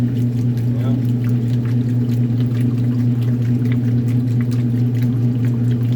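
Washing machine in its rinse cycle, a steady loud motor hum with sloshing water running continuously and unchanging throughout.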